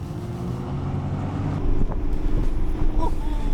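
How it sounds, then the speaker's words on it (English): A 2025 NIO ET5 electric car launching hard under launch control, a loud steady whoosh of road and wind noise that swells after a second or two and stays strong, with a voice talking over it. "Launch control is a function which will help you to have a perfect launch if you compete with someone."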